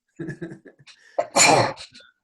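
A few soft vocal sounds lead into one forceful, noisy sneeze that rings out loudly, close by, followed by a brief quieter exhale.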